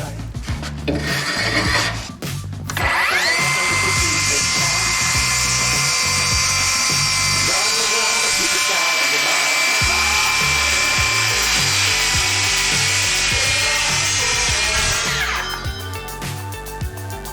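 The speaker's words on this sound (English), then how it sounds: "Once Chris completed cutting and planing" Power tools cut and plane fir timber beams for a heavy post-and-beam build, a loud sustained whine running about twelve seconds over rough, clattering wood noise, with brief tool bursts at the start.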